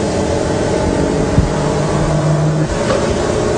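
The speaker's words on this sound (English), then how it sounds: "the motor will start running, and what I'll do, I'll energize it on this motor here" Electric motor in a Tesla-concept demonstration setup, energized and running with a steady hum and a loud, constant broadband whir throughout, with no talking.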